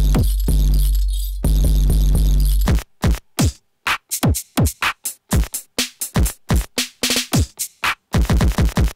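After a loud buzzy burst, a soft, deep kick drum thumps repeatedly in a quick steady pattern, each hit short and rounded.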